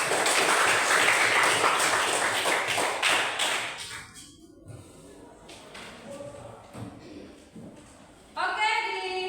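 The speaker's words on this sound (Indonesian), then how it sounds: "mari kita tepuk tangan untuk" Applause from students in a classroom, loud dense clapping for about four seconds that fades out into quieter room noise and talk.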